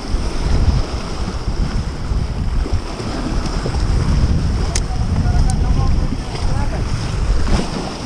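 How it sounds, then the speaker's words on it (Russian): Strong wind roars continuously against the microphone while shore fishing in Vladivostok, a dense rumbling buffet with faint water sounds and a couple of brief clicks. "Ветер прям сильно мешает."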